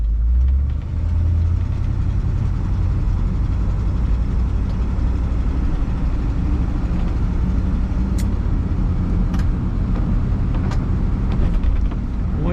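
A 1962 Ford Galaxie 500 XL convertible drives along, its engine giving a steady low rumble with road and wind noise, loud and continuous throughout, with a few faint clicks and no speech.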